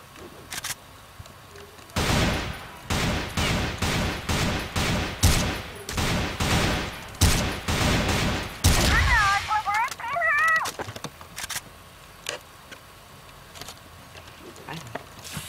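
Rapid bursts of gunfire from the online shooter CrossFire ring out in a fast, loud rhythmic volley lasting several seconds, then fade into quieter in-game sounds and a brief electronic chirp; someone talks faintly in the background.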